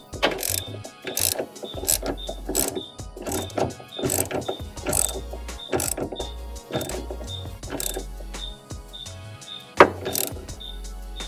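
Ratchet clicking in rapid bursts as it turns a Torx 55 bit on a fuel bowl bolt, close and fairly loud, with short pauses between strokes and a sharp knock near the end.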